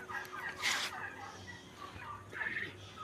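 Chickens cluck in a yard, a few short clucks and squawks near by, with a man calling softly in between.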